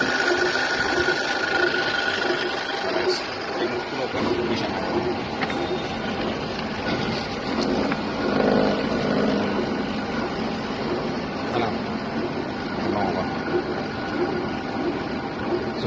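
Steady continuous mechanical whirring and rattling from a running lathe machine in a workshop, loud and close, with a droning hum throughout and no speech.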